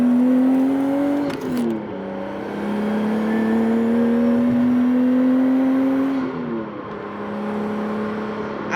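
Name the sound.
car turbo noises while accelerating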